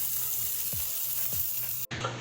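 Peppers roasting in an oven, a steady high sizzle and hiss with a few soft knocks, close and fairly quiet, ending abruptly.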